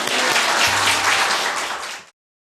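A church congregation breaks into loud, dense applause to welcome a visiting pastor to the pulpit at an anniversary worship service, the clapping sustained evenly before cutting off abruptly.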